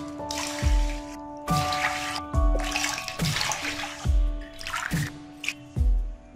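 Water poured from a cup into a pot of sugar for rasgulla syrup, six cupfuls in a row: repeated close splashing pours with dripping between, each starting with a heavy gush.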